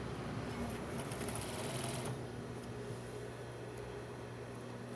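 A sewing machine runs continuously, stitching a seam on a bra, its fast mechanical whirr steady and close, easing off slightly about halfway through, with no voices.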